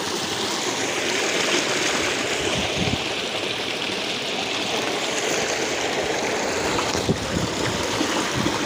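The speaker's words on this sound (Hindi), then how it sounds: "इस कुंडी के अंदर पानी जा रहा है।" Water flowing steadily into a small village tank in Hathras, India: a continuous loud rushing and splashing with no talking, and a few sharper splashes near the end.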